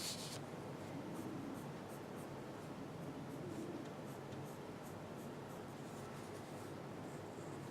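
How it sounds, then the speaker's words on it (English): Soft, steady scratching of a white pencil hatching across paper while rendering kitchen tile, a faint continuous rubbing texture with no talk over it. "I'll use my white pencil to open this tile up and this tile up."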